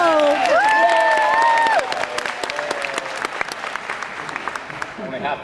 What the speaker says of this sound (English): Only half the audience claps.